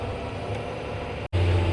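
Steady engine drone of a tractor ploughing a field with a plough, heard close; the hum cuts out briefly, then resumes with a stronger low rumble.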